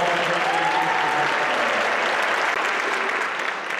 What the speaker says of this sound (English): Let's give them another round of applause for all the great things